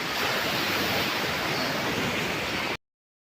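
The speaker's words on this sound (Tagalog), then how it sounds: "Tapos ang lalakas ng alon." Strong ocean waves roll in at a beach resort in Batangas in the late afternoon, a steady, loud, broad wash of surf filling the whole stretch before cutting off abruptly.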